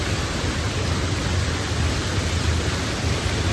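A village stream flows strongly in a steady, dense rush of water that stays even and fairly loud throughout, with no voices.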